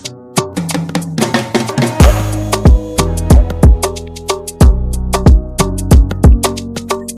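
Sampled percussive melodic loop from Blaq Diamond's "PS" beat in FL Studio, with punchy low hits and bright plucked, bell-like notes in a steady repeating rhythm, loud and alone.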